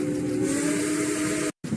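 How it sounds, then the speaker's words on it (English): A Western Maryland 1309 steam locomotive whistle blows a steady, multi-toned chord for about a second and a half, loud and sustained with a breathy hiss, then cuts off abruptly into brief silence before faint noise returns. "this is where the whistle came from"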